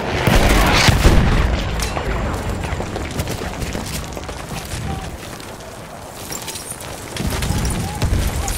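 A grenade detonates in Battlefield 1 amid a World War I battle, a heavy booming blast with rumbling gunfire and combat noise throughout, continuous and loud, with shouted voices mixed in.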